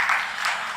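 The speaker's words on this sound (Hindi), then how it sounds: "बहन जी के नाम की ताली बजाओ" Applause from a seated audience at an Arya Samaj religious discourse, in honour of a woman who answered a question, a dense steady patter of many hands at moderate loudness with no talk over it.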